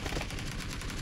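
Rapid video game gunfire during a competitive esports match, a dense burst of continuous automatic shots that fills the whole moment at steady loudness, with no voices over it.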